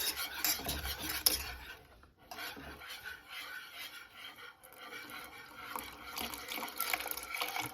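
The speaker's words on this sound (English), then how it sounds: "Keep whisking." Lasagna sauce with milk is whisked in a pan, a quiet, busy scraping and clinking of the whisk against metal with liquid sloshing, pausing briefly midway before continuing.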